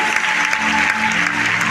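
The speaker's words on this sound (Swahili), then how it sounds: "Pigieni Yesu makofi mazuri" A church congregation claps together in a steady, dense burst of applause that sounds close and lively, with faint voices mixed underneath.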